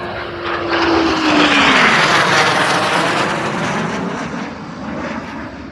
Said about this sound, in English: Actually went our way, the Typhoon!